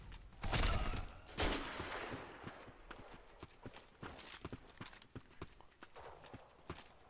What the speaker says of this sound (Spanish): Eso sí es un disparo